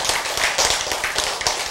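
A church congregation claps in a quick, uneven rhythm, with distinct sharp claps standing out over a denser layer of hand-clapping at moderate loudness.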